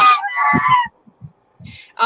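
A goose honks loudly in a few rough, nasal calls at the start, followed by a quieter stretch with faint low thumps and another honk at the end.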